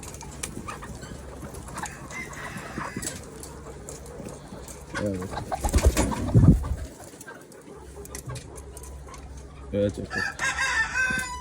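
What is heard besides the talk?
layer hens on a farm in nests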